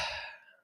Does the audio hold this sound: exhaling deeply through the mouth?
yes